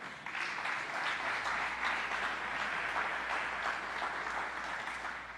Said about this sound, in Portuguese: Então um aplauso a Jesus aí